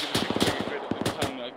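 Automatic gunfire in the military video game ArmA 3, rapid bursts of shots with sharp cracks and a few louder reports, close and loud, with a voice briefly heard.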